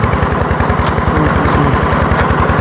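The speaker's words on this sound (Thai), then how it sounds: "โอ้รถเจาะนี่เลย โอ้ เนาะกักแล้วสั่น" A well-drilling truck's diesel engine runs close by with a fast, even pulsing chug, loud and steady, with no other sound over it.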